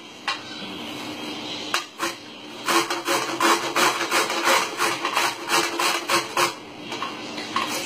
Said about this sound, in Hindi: चुकंदर को भी छोटा सा सेंटर में से कट लगा लेंगे।